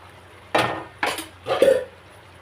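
A metal cooking pot is covered with its lid on a gas stove that has just been turned off, giving three or four sharp clinks and clatters with short pauses between them, close and fairly loud, with no voices.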